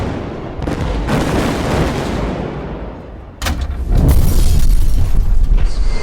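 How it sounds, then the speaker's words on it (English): Heavy explosions from an airstrike hitting a battalion near a shoreline, a loud rumbling blast dying away before a second, louder, sustained roar of detonation and debris, with no speech. "the airstrike landed on the main battalion"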